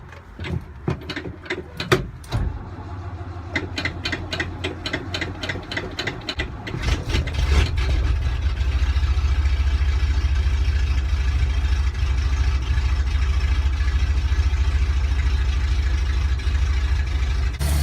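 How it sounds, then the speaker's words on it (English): A carbureted truck engine cranks with rapid clattering, catches, then settles into a steady, loud, low rumbling idle that continues throughout. "The vehicle is running"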